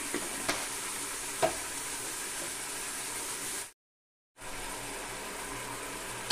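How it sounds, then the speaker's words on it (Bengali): Ash gourd cooking with mustard paste and a spoonful of sugar in a pan, giving a steady close sizzle with a few soft scraping stirs near the start, then a brief silent gap before the frying resumes. "নাড়াচাড়া দেবো।"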